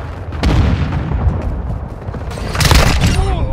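Gunfire and heavy booms in a Call of Duty Modern Warfare 2 multiplayer match, with dense rumbling bursts and a louder blast near the end, close and loud.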